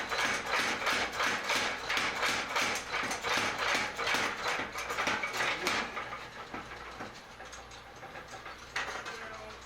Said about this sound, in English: A little more aggressive blows with the hammer.